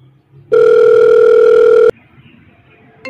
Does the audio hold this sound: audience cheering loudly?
no